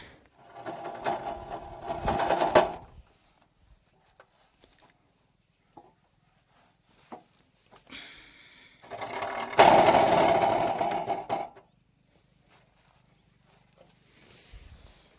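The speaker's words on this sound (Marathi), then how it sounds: "आपल्या गाडीचं काहीतरी खडखड खडखड वाजू राहिले" A farm vehicle rattles loudly up close in two long bursts of clattering mechanical noise, with a quieter stretch of faint clicks and knocks between them and a short thump near the end.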